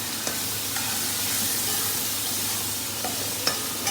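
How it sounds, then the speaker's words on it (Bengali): Shrimp being sautéed in spice paste, a soft continuous sizzle close up, with a few light clicks and scrapes of a spoon against the pan as it is stirred. "চিংড়ি মাছটা দিয়ে আমি ভালো করে কষিয়ে নেব।"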